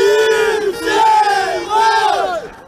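A large crowd of fans at a home bandy match of Sibselmash in Novosibirsk roars and chants in unison, loud sustained voices rising and falling in waves across the stands.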